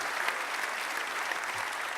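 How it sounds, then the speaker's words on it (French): Steady applause from an audience, dense clapping filling the whole moment at an even level. "On va applaudir très fort nos 4 PMistes qui sont là."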